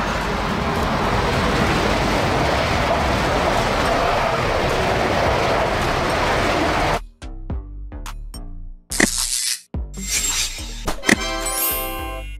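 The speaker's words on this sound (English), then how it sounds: "The ICE is Germany's flagship high-speed train, producing a steady, deep electric hum" A German ICE high-speed electric train roars past with a dense, steady rush for several seconds, then cuts away to a series of sharp, choppy clattering sounds.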